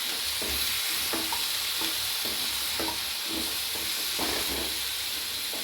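Boiled tapioca being stirred into masala in a pan over the heat, with a steady sizzle and hiss and repeated scraping strokes of the spoon through the mixture, close and continuous.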